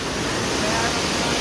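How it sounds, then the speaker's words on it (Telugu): Small waterfalls on the Kedarnath trek in the Himalayas give off a loud, dense, continuous rush of water close by. "ఇప్పుడైతే మన చిన్న మినీ వాటర్ ఫాల్స్ అయితే క్రాస్ అవుతున్నాం"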